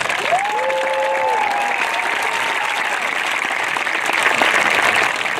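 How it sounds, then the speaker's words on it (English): An audience at a school graduation ceremony claps for award winners, sustained loud applause filling the hall, with a faint whistle rising near the start. "Please help me congratulate these students with one more round of applause."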